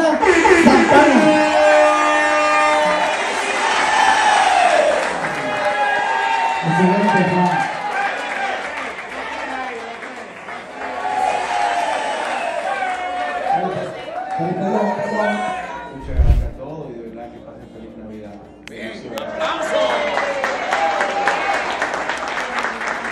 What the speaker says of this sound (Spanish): Un aplauso fuerte para la madre del año,